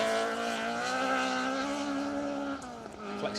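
A Ford Mark II Escort rally car in Motorcraft colours races along a two-wheel-drive stage of Plains Rally 2023. Its loud, close engine holds a steady, high-revving howl, then the pitch drops sharply as it shifts gear and passes by.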